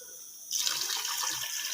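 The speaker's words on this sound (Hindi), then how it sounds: "3 गिलास पानी जो है मैं इसमें ऐड करूँगा।" Water poured into a pressure cooker holding soaked rice for matar pulao, a steady splashing rush starting abruptly and continuing close and fairly loud.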